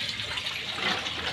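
Mains supply water runs steadily into a drum at home, a continuous, even rush and splash with no pauses and no talking.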